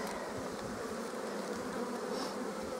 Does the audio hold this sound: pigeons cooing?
no